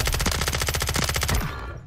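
A video game gun fires in a rapid, even burst of roughly a dozen loud, close shots that stop abruptly, leaving a short fading tail.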